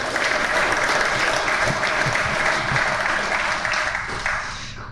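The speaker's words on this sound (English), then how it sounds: "I'd love you all to give our guests a round of applause" A live event audience gives a sustained round of applause for the guests, full and even, slowly fading toward the end.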